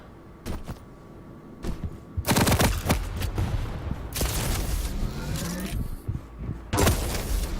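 Several sharp rocket blasts and impact bursts from an arena shooter video game, loud and clustered in quick bursts over a steady game background, with no talk.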